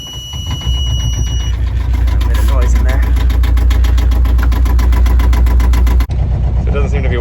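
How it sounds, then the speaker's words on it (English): A boat motor starts and then runs with a loud, steady, low mechanical drone close by, cutting briefly near the end before resuming, with speech mixed in. "let's see if we start the motor"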